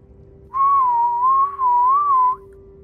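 A single sustained whistle in the Sea of Thieves pirate game, wavering gently in pitch for about two seconds with a brief break partway, loud and clear over a steady low hum.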